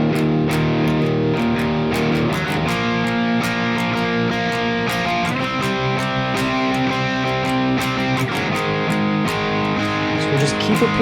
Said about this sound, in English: we'll play the last extended chorus using all distorted power chords